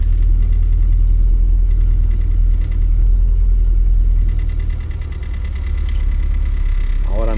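A car idles nearby with a steady low rumble and a faint knocking texture throughout, and a short voice or squeak comes in near the end.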